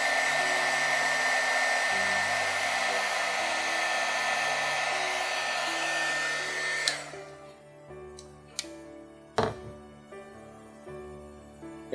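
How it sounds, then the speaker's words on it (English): A heat embossing tool blows hot air over a holiday cookie box craft project, giving a loud, steady rushing hiss for about seven seconds before cutting off, followed by a few sharp clicks and handling knocks. "I got my heat tool."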